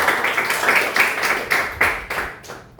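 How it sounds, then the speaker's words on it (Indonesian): Short burst of clapping from a group of schoolchildren after a closing prayer in a classroom, a few seconds of fairly loud, evenly paced claps that fade out at the end. "Diberi tepuk tangan."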